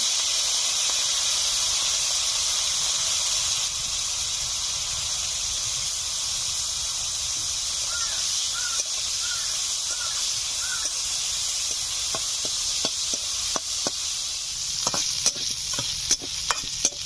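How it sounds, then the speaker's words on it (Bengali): Hot oil sizzling steadily as prawns fry, a continuous hiss with sharper crackles and utensil clicks toward the end. "তেল গরম হয়ে গেছে, চিংড়ি মাছগুলো ভেজে নিচ্ছি।"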